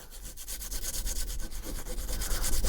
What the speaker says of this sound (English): Then I like to take a little bit of sandpaper as backing